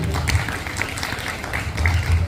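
Audience clapping at Film City's Bollywood Park in Mumbai, a short burst of scattered applause from a crowd, fairly even in level throughout.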